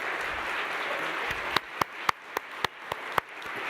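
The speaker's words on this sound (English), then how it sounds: "So I'd like to give a round of applause for our active duty military and our veterans." Audience applause at a nursing conference honouring military and veterans, a thinning wash of clapping punctuated by several loud, distinct nearby claps in an uneven rhythm toward the end.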